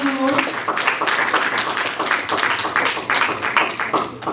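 A church congregation breaks into sustained applause, a dense, steady wash of clapping with some cheering that stays loud and even throughout, with no pauses.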